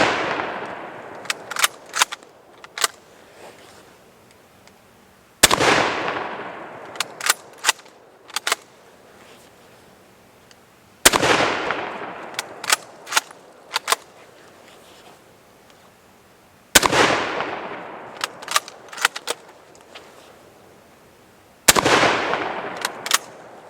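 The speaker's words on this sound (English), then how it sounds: "Let's shoot these 2 liters real quick. See how well the old Mosin blows them up." Five loud, sharp rifle shots from a Mosin Nagant M91/30, fired at 2-liter bottles outdoors. Each blast rings out and decays over a few seconds, and smaller clicks and clatter of the bolt action follow each shot.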